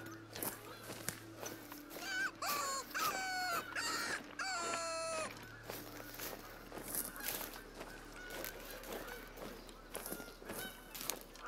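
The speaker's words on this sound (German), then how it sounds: "das Gänse-DLC ist ja jetzt draußen und ihr hört es ja auch. Also das Gegacker von den Gänsen." Geese honk and cackle in the hunting game theHunter: Call of the Wild, set in the Hirschfelden reserve, with a burst of calls in the middle amid outdoor ambience and occasional footstep crunches.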